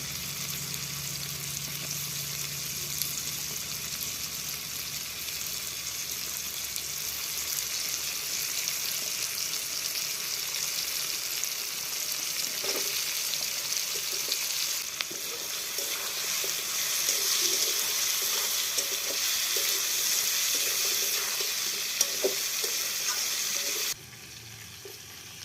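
Olives frying in hot oil for olive pickle, a steady broad sizzle running throughout with occasional scraping stirs and small pops, fairly loud and continuous until it drops off near the end.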